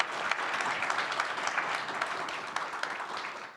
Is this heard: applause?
yes